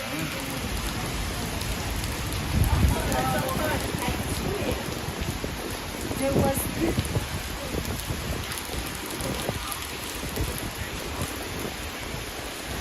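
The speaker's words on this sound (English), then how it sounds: "How amazing is New York City in the rain?" Steady rain pours across a Manhattan street in New York City, a constant hiss of drops on pavement with faint low rumbles of traffic underneath.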